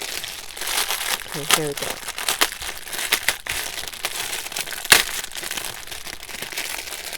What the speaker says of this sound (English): Should I just cut the bag?